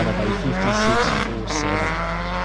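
A hillclimb race car at the Legend of the Lakes event crossing the finish line, its engine a loud, harmonic buzz close by with a brief tyre scrub, heard alone for a couple of seconds.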